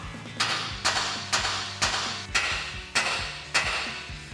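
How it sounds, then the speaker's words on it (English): Hammer tapping on a vehicle steering knuckle to free a ball joint during a suspension lift install: seven sharp metallic strikes at a steady half-second rhythm, each ringing briefly, close and clear with no talking. "Next we can grab a hammer to tap on the side of the knuckle here to break our ball joint free."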